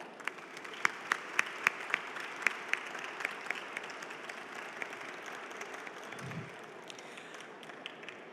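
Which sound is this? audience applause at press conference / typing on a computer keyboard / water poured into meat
audience applause at press conference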